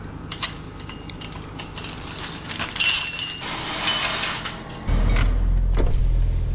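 Car keys jangle and clink in scattered bursts as they are grabbed, close and moderately loud, followed near the end by a low mechanical rumble.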